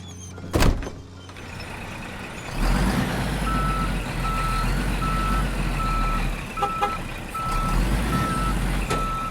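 A truck's reversing alarm beeps in a steady repeating series over a loud diesel engine rumble during an elephant relocation, with a sharp door thunk near the start.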